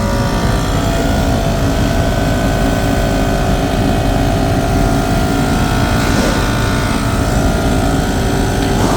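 Range Rover L322 air suspension compressor pump running steadily as the car rises, a continuous close mechanical drone and whir lasting the whole stretch, with no talk over it.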